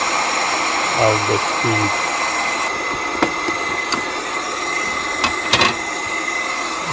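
A small blower in a magnetic IDEX cooling system runs at maximum power, giving a steady, close, broadband rushing hiss throughout, with someone talking briefly over it and a few faint clicks.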